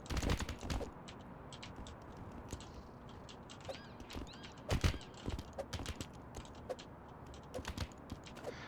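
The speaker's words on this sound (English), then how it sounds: "Hopefully you can't hear my keyboard too much." Quiet, irregular keyboard clicks tap away in bursts, close to the mic, with a faint room hiss underneath.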